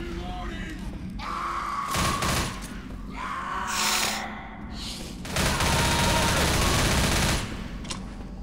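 Gunfire at zombies in the video game Left 4 Dead's subway level, with bursts of rapid automatic shots in loud clusters separated by short lulls, and a voice grunting in between.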